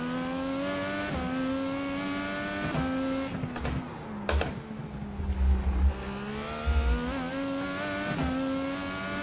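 In the iRacing sim racing game, a race car engine revs with a high, whining tone that climbs and drops through gear changes, with a few sharp clicks and no talking.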